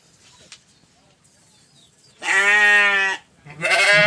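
A horned Sakub ewe, pregnant, bleats in two loud, sustained calls, the first long and steady and the second starting after a short pause, with quiet background before them.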